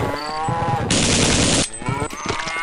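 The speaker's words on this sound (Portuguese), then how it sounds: "Um boi zumbi" Gunfire bursts for under a second, and a deep, drawn-out bellow follows, a distorted moo from a zombie ox in the Half-Life mod They Hunger, with some layered game noise.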